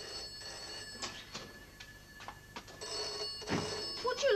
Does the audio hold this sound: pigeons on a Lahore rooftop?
no